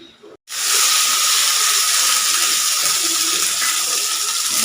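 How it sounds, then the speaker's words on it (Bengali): Bitter gourd hits hot oil in a wok with a sudden loud hiss that settles into a steady, close sizzle. "উচ্ছেগুলোকে ভালো করে ভেজে নেবো আগে, তারপরে কিন্তু সব দিয়ে ভাজবো।"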